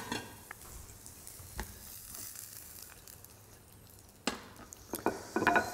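Green beans grill in a pan with a quiet, steady sizzle and occasional stirring scrapes, followed by louder clatters of pan and utensils near the end.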